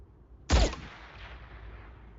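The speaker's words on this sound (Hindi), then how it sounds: "उड़ा दो उसे, एक ही शॉट बिना आवाज के" A single gunshot in a movie scene fires as one abrupt loud crack, followed by a fading low rumble of reverberation.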